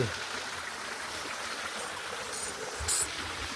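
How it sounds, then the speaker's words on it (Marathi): Mountain spring water flows steadily in a continuous, close rushing hiss, like a small mountain stream, along the Narmada. "डोंगरातनं पाणी येते"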